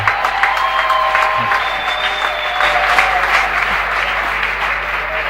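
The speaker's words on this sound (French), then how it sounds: "Si tu es d'accord avec ça, acclame Jésus bien" A church congregation in Yaoundé applauds in a continuous, dense wash of clapping, with a voice speaking over it.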